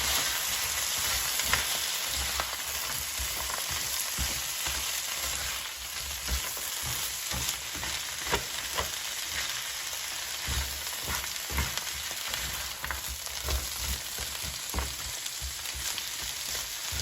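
Frozen vegetables sizzle and crackle steadily in a hot pan, a dense hiss with occasional sharper pops and stirring scrapes, close up.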